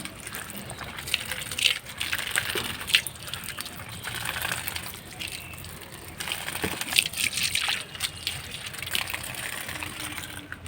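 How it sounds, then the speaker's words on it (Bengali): Beans, papaya and bitter gourd being washed in water, with steady sloshing and gushing splashes close by throughout, rising in brief louder bursts, no talk. "এরপর দেখো সবজিগুলোকে ভালো করে ধুয়ে নিচ্ছি"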